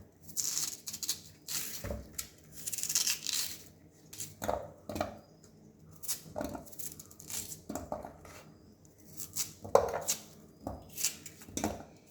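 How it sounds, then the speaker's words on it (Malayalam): A knife chops raw yam on a board while making a Kerala tapioca dish, giving a run of irregular, close, sharp cuts with short pauses between them. No voices. "കാച്ചിലും നുറുക്കി വെച്ചു"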